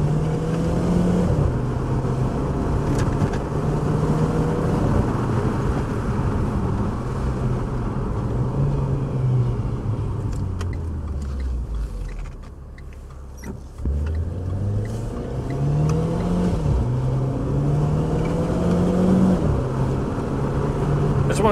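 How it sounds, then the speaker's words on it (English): A Renault Clio engine revs high in manual mode in Renault Sport setting, its pitch climbing and holding, dipping sharply as it drops off mid-way, then rising again through repeated upshifts, loud and close with steady road noise. "try and keep it high in the rev range in manual mode"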